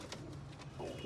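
Newly arrived pet pigeons coo quietly in a loft box, a faint, low murmur of calls over a soft background.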